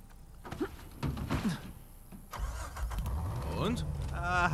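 A car engine cranks and starts in the Uncharted 4 video game, rising into a steady engine hum in the second half, with game voices and effects heard over it earlier on.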